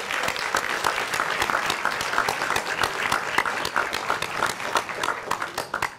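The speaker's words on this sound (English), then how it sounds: "So let's give them a round of applause." An audience at a youth summit plenary session applauds, with distinct individual claps forming a steady, moderately loud round of applause that continues throughout.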